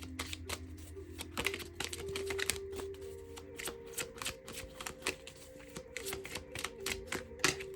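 A deck of tarot cards is handled and shuffled close up, giving rapid, crisp riffling clicks in bursts across several seconds, fairly quiet, with no voices.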